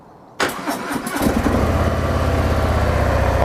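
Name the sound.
Harley-Davidson Softail Sport Glide engine starting and idling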